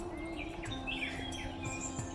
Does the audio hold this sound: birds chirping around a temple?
yes